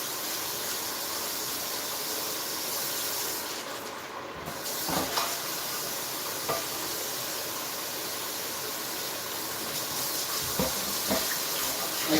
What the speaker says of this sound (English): I like to wash the frying pans as they get emptied.